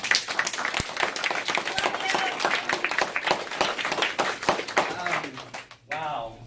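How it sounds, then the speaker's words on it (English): A church audience claps and applauds steadily for several seconds, a dense run of close hand claps that stops abruptly near the end before a voice starts speaking. "give him a round of applause"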